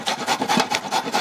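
Fresh farm carrots are grated by hand in a village kitchen, giving close, rhythmic rasping strokes, about five quick scrapes in a little over a second, with no voices.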